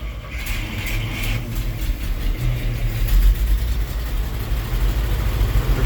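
An old GMC truck's big V6, not run in eight years and primed on old rusty fuel, cranks and catches into a rough, uneven idle that grows louder, with mechanical clatter close by.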